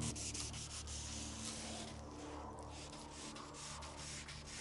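Hand sanding block scuffing car paint on a Peugeot 406 being prepped for candy red, a steady close rasping rub in continuous back-and-forth strokes with no talking.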